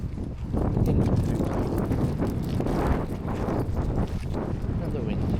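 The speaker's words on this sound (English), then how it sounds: "Another wind." Strong wind gusting outdoors in Wales around a parked camper van, a constant loud rumbling buffet on the microphone that swells and eases over several seconds, with no clear voice above it.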